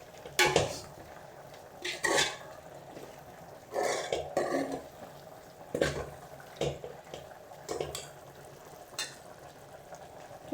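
Food fries in a pan with a faint background sizzle, overlaid by repeated metallic clanks and scrapes of a spoon stirring against the pan, coming in irregular bursts every second or two.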